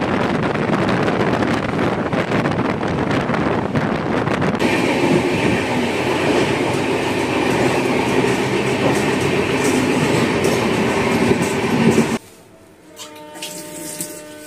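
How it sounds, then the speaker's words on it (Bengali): A passenger train races at high speed past Thakurkuchi station toward Guwahati on India's easternmost rail route, a loud continuous rush of wheels, rattle and wind that drops suddenly near the end to a quieter interior hum. "ট্রেনটি দুরন্ত গতিতে ঠাকুরকুচি রেলওয়ে স্টেশন স্কিপ করে গুয়াহাটির উদ্দেশ্যে ছুটে চলল।"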